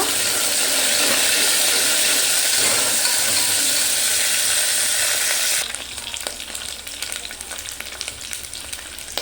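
Curry leaves and dried chillies fry in hot oil with a loud, continuous sizzle that drops suddenly to a quieter crackle with light stirring clicks, and nobody speaks.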